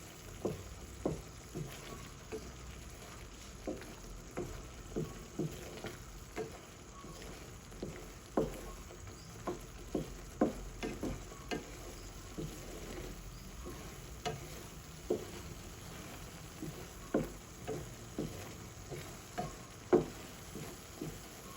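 Soft repeated clinks and scrapes of a utensil stirring sardines frying in a pan, irregular taps every second or so over a faint sizzle, quiet and close.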